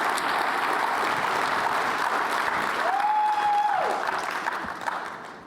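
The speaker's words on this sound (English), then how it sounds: "let's give them and Trammell Crow a round of applause for this convening" Steady applause from an audience at a climate diplomacy and cross-border collaboration event, honoring sponsors Trammell Crow and the Hispanic Business Council; sustained, dense clapping that holds evenly for several seconds, with a brief whistle-like tone partway through.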